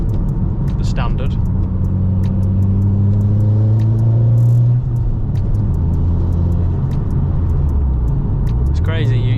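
Mitsubishi Evo X with a short shifter and new bushings on a test drive: a steady low engine drone and road rumble, a rising rev near the end, under someone talking throughout.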